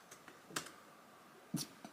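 Faint computer keyboard keys pressed while editing in LumaFusion on Android, a few sparse clicks with a couple of sharper taps, quiet and spaced out.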